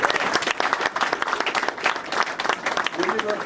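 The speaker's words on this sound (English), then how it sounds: "So give yourself a big round of applause." A crowd at a Norwegian Air Shuttle media reception at Stewart International Airport breaks into a lively round of applause, sharp irregular claps densely overlapping, with voices mixed in underneath.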